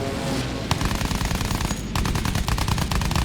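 A warplane's machine gun in the Battlefield 1 video game fires rapid, loud bursts over a constant engine drone, with a brief break in the firing partway through before it resumes.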